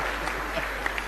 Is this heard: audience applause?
yes